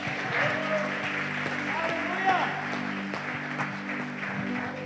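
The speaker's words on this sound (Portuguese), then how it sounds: "Você pode aplaudir Jesus novamente?" Congregation applauding in a church service, a steady wash of clapping heard under a sustained tonal background, with a voice briefly audible in the mix.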